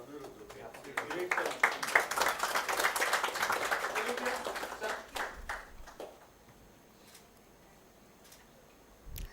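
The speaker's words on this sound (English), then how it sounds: "Also a round of applause for Anirudh." A panel session audience claps for a speaker, a scattered round of hand claps that is fairly close but modest in volume. It thins out after about six seconds, and a voice talks over and after the clapping.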